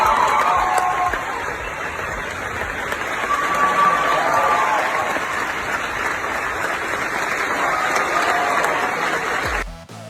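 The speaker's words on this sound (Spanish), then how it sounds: "Siempre es una alegría escuchar tantos aplausos" Sustained, loud applause from a theater audience after a contemporary dance performance by Compañía Rosario Cárdenas, dense and steady for about ten seconds before cutting off abruptly at the end.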